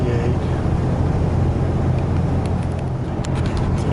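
A 2010 RAM 2500 pickup truck's engine cruising steadily at around 1750 RPM, a dense continuous low rumble mixed with road and cabin noise, with no one speaking.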